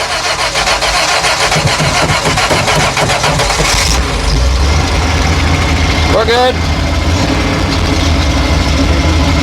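A 1962 Corvair's rear-mounted engine runs loud and steady through a test drive, with road and wind roar throughout and people talking over it.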